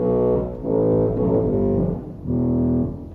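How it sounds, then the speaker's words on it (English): A big 16-foot bombard reed stop on a large Skinner/Möller pipe organ blares in three loud, brassy held notes with brief dips between them, heard alone. "There's a big bombard 16."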